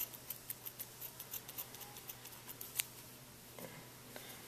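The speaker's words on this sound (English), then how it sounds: "So get your scissors, cut the yarn." Scissors snipping through yarn after a crochet beanie is fastened off: a run of quiet, crisp clicks and snips repeating steadily, then one louder cut and a few scattered ticks, close by with no talking.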